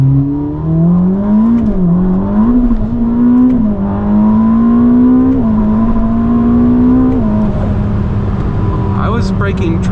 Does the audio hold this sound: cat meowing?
no